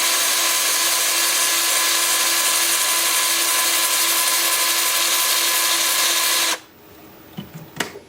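Sandpaper presses against a spinning Russian olive live edge bowl on a wood lathe, a loud, steady hissing whir with a constant motor hum that cuts off abruptly near the end, leaving a few faint clicks and knocks.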